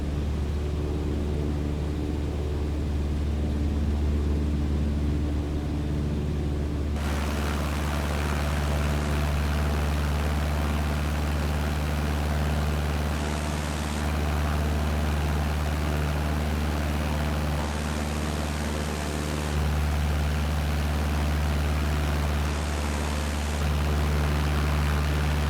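A light aircraft engine at reduced power in Microsoft Flight Simulator gives a steady, droning hum throughout, with brief shifts in the higher hiss partway through. No one speaks.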